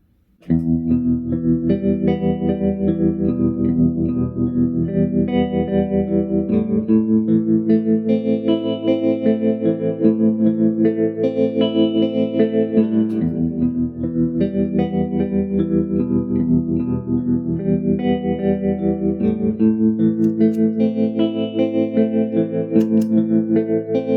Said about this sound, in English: there we are back with like kind of a more normal standard tremolo sound